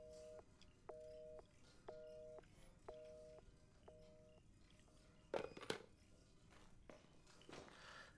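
A picked-up telephone in the Resident Evil 7 video game gives a repeating line tone, five short even beeps about a second apart, followed by a few sharp clicks and knocks.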